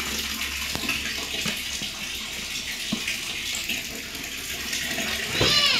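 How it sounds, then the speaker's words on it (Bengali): A tap runs into a tub to soak clothes for washing, a steady close splashing of water with a few knocks and clatters, and a brief louder gush at the end. "পানি ছাড়ছি, কাপড় ভিজাবো।"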